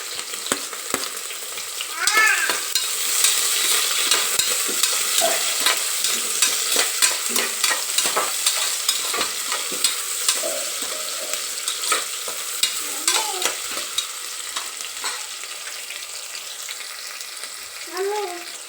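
Onions sizzle in hot oil with aromatic spices in a pan while a utensil stirs and scrapes through them. The frying hiss is steady and close, stirring clinks are scattered throughout, and a brief faint voice cuts in.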